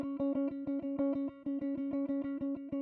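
Clean DI electric guitar in an 80s pop and 70s disco style beat, picking one root note in a fast even repeated rhythm with a brief pause midway, dry and quiet.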